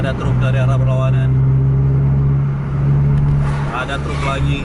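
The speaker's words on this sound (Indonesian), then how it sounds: "Ada truk dari arah berlawanan." A truck approaching from the opposite direction rumbles past a bus on the road, with a steady engine drone and broadband road noise under continuous engine hum.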